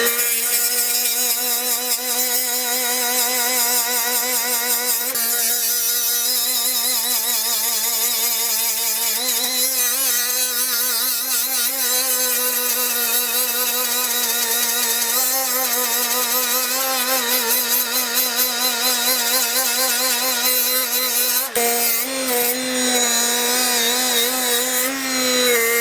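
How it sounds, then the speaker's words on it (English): A die grinder fitted with a 3M Scotch-Brite pad cleans small Briggs & Stratton engine parts, a loud continuous high whine that shifts pitch as the pad bears down, running alone for a long stretch. "I use a 3M Scotch-Brite pad like this on my die grinder"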